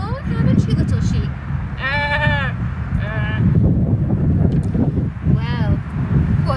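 Several sheep bleat in short wavering calls, about three distinct bleats spread across the stretch, set against steady wind and outdoor rumble with no one talking.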